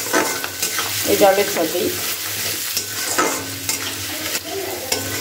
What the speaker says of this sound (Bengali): আদা আর কাঁচা লঙ্কাটাকে এর মধ্যে দিয়ে দিচ্ছি, দিয়ে ভালো করে একটু নাড়াচাড়া করে নিচ্ছি আদাটাকেও